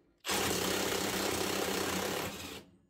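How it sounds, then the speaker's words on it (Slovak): Parkside Performance PASSP 20 Li A2 cordless impact wrench run at full power, loosening a bolt tightened to 1000 Nm; one loud, close, continuous hammering burst starts abruptly and lasts a little over two seconds before cutting off. "teraz nastavujeme obidva rázové uťahováky, samozrejme naplno a ide do maximálneho rozstrelu"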